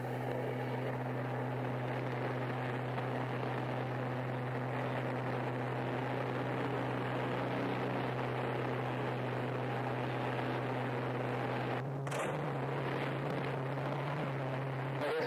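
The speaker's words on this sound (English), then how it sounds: "I want to listen to some of the traffic" Street traffic heard through an open window: steady low engine rumble and broad traffic noise, with a brief louder burst of a passing vehicle near the end; no talking.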